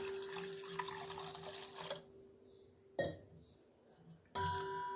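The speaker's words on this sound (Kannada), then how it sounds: "ಮತ್ತೊಂದು ಸತಿ ನೀರು ಹಾಕಿ ತೊಳ್ಕೊತೀನಿ ನೋಡ್ರಿ" Water sloshes and splashes in a container in short bursts as flattened rice is rinsed by hand, with quieter pauses in between.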